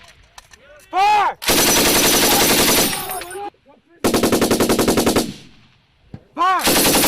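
US Army M240 and M249 machine guns firing on a range, loud close bursts of rapid automatic fire in two long strings separated by a pause, with brief ringing tones and a new burst starting at the end.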